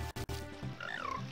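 Frogs in The Legend of Zelda: Ocarina of Time give a short burst of croaks, a few quick clicks followed by a rising, warbling croak, close and clear with no talking.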